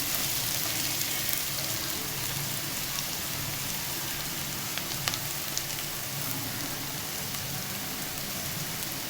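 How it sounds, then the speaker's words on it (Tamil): Onions sautéing in a pan give off a steady, even sizzle and crackle that carries on throughout without any pause. "வெங்காயம் நல்லா வதங்கட்டும்."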